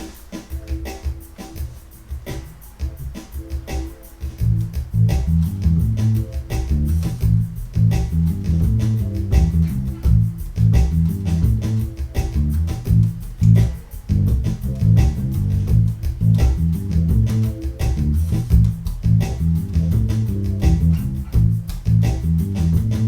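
A bass guitar plays a groove on the minor pentatonic scale, starting on A, over a backing track with drums. The deep, steady line pulses loud and continuous throughout, with no talking.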